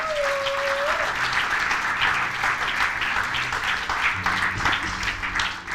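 A church congregation applauds and cheers during a Christian service, steady full-room clapping that lasts throughout, with a brief tone at the start and murmurs underneath.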